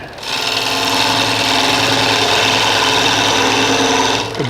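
A lathe gouge cuts across a natural-edge walnut bowl during woodturning, producing a loud, continuous whirring scrape that holds steady for several seconds before the cut stops.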